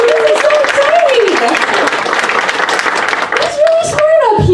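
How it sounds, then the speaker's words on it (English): Loud audience applause at a Q&A event fills the space with dense, steady clapping, while excited voices rise over it and a voice carries on near the end. "applause, you guys!"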